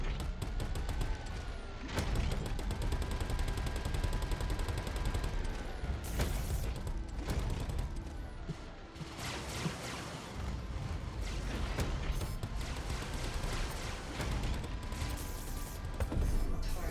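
Starfighter guns in the space game Star Citizen, in an Ares Ion and Inferno dogfight, give a dense, continuous rattle of loud fire with crashes and thuds over engine noise, and a voice talks now and then.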